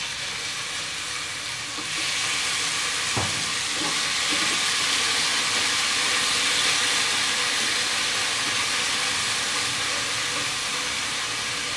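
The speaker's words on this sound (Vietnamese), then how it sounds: "cô bắt đầu xào thịt bò." Beef stir-fries in a hot pan with a loud, continuous hissing sizzle that swells after the first couple of seconds. One utensil knock cuts through near the start, and no one speaks.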